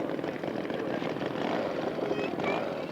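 A Waco biplane taxis at a scale aircraft show, its propeller engine giving a steady, fairly loud droning buzz for the whole stretch, with faint voices in the background.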